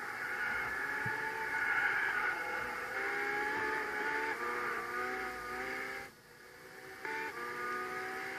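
Ferrari race car at the Belgian Grand Prix circuit threading a chicane: a sustained, fairly faint high-revving engine whine that rises and falls through gear changes and a brief lift, with no speech.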